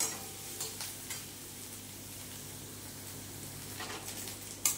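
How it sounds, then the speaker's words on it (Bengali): Onions are lightly sautéed in a pan for Bengali moong dal, kept white rather than browned, with a soft steady sizzle and a few gentle stirring scrapes and taps, one sharper clink at the end. "সেইভাবে পেঁয়াজটা একটু হালসে নেব, হালকা করে"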